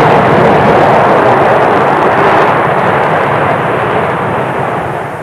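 Concorde supersonic airliner touching down on a runway, a loud sustained broadband jet roar filling the whole clip and easing slightly toward the end, with no talk over it.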